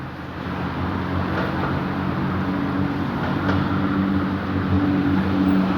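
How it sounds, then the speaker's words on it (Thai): Diesel railcar accelerating across a level crossing and into Sam Sen station in Thailand: a loud, steady engine drone with harmonic tones and rail rumble, continuous and close, with no talk. "เร่งเครื่องผ่านจุดตัดมาแล้วนะครับ แล้วก็จะเข้ามาจอดที่สถานีนะ"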